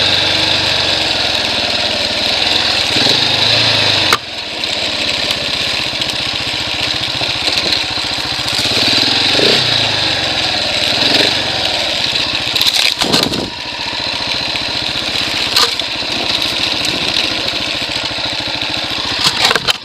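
A 2017 Husqvarna 701 Enduro single-cylinder motorcycle engine runs steadily in the woods, a loud continuous drone with a dip around four seconds and brief surges near thirteen seconds, with no talking.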